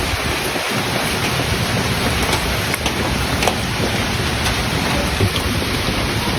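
Steady rain falls in an even, dense hiss with no pauses, loud and close throughout, with a few faint knocks underneath and no voices.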